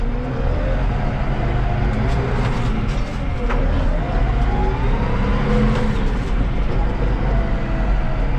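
New Holland TD5.110 tractor accelerating on a road open to traffic, a dense continuous engine rumble with a rising tonal whine, loud and close throughout.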